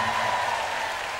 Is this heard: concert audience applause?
yes